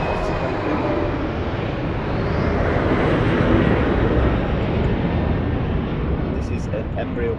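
Embraer 190 airliner at Lisbon Airport: a broad, steady jet roar swells and lingers at a distance, with a faint whine above the rumble.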